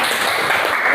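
Brief, dense clapping from a classroom audience, loud and close, a short steady burst with no pauses.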